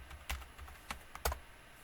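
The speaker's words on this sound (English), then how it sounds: "Press enter, type in your password." A few quiet, separate keystrokes on a computer keyboard while a password is typed in during a Linux software install, close by with no talking.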